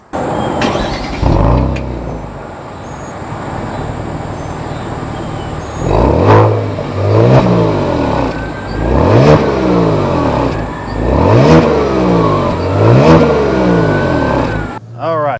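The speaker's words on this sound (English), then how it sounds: "see what kind of sound comes out of those cool-looking tailpipes from this twin-turbo V6" A 2022 Kia Stinger GT2's twin-turbo V6 revs repeatedly through several gears, the exhaust rising in pitch each pull then dropping at the shift, loud and close, after a brief quiet start.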